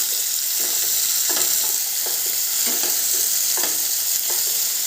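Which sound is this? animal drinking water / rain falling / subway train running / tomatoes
tomatoes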